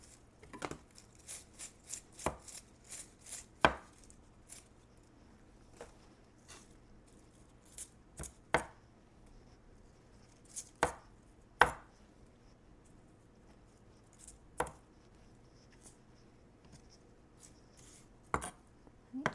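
A knife chops fresh parsley on a board in sparse, irregular taps, some crisp and loud, others faint, with quiet pauses between bursts.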